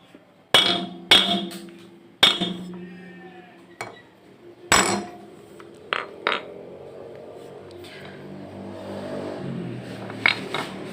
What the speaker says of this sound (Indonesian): cara lainnya kalian bisa menggunakan palu seperti ini